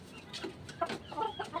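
A few soft, nearby clucks from chickens, short irregular calls over quiet background noise.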